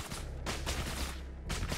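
Gunfire in the tactical shooter Ground Branch, several quick bursts of shots in uneven clusters, faint and somewhat distant, with a low background rumble.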